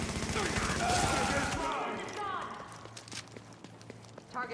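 Gunfire in The Division, a third-person shooter, comes as a dense burst of rapid shots at the start, then scattered footsteps and lighter in-game effects.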